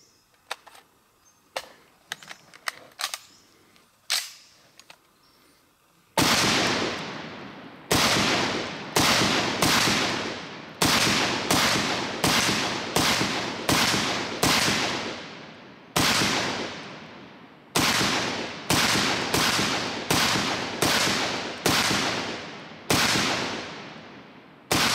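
A firearm fitted with a Holosun HS503GU red dot sight fires steel ammo, first as a few faint, scattered cracks and then as a long series of loud, sharp shots at a quick, uneven pace, each with a short decaying tail.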